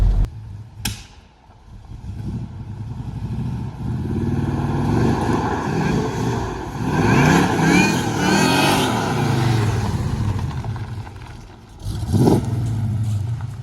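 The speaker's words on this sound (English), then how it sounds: "the supercharger noises is really" A supercharged straight-six car revs repeatedly up close, its engine roar swelling and falling with a high whining layer over it. A sharp blip follows near the end, with no talk.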